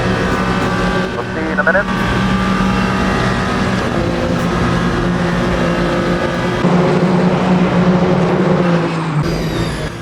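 Race cars including a Ferrari tearing around the Le Mans circuit in the Le Mans Ultimate game, engines droning loud and steady with pitch shifts as cars pass, under continuous commentary talk.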